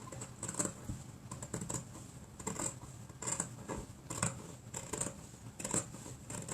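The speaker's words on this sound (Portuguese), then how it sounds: "O som da tesoura." Scissors snipping fabric for a boot-shaped Christmas cutlery holder, a steady series of sharp, crisp cuts repeating about once every half second, close and quiet, with no talk.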